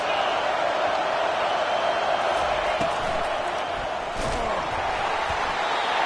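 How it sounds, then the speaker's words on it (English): A football stadium crowd roars steadily throughout a game, a loud, dense wash of distant voices with a brief swell near the middle and no clear words. "This crowd trying to make life miserable for this offense."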